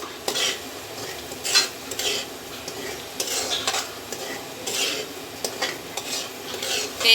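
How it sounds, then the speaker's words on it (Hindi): Semolina roasting in hot ghee for sweet halwa, stirred with a spoon that scrapes and knocks against the pan in repeated strokes over a soft steady sizzle, close up with no talking. "अब हम इसमें सूजी डाल के भूनेंगे, इसको हल्का सा ब्राउन करेंगे।"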